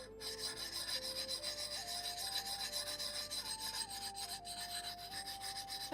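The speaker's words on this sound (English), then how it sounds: "that's just how you normally polish up an axe. With a circular whetstone." An axe is rubbed against a circular whetstone in a steady, rhythmic rasping scrape, close and fairly quiet, repeating strokes with a faint tonal hum underneath and no talking.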